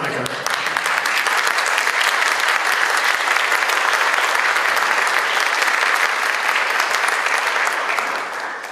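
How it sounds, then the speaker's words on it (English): Sustained, dense applause from an audience at a concert band performance, loud and even for about eight seconds before beginning to fade at the end. "I'd like to have a round of applause for Veronica."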